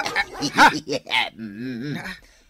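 A big dog barks and yips in quick bursts that trail into a whining whimper, loud and close, with speech mixed in among the barks.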